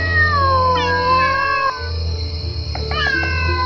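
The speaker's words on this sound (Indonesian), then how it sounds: "mendengar suara kucing-kucing yang bersahutan" Two animated cats meow back and forth, drawn-out wavering cries close by, one answering the other over a low background hum.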